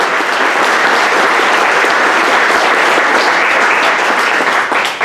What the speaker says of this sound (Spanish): Denle un aplauso al Cordero.